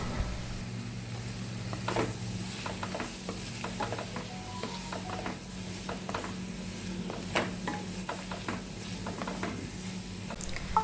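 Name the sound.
sautéing sliced banana with jackfruit in a pan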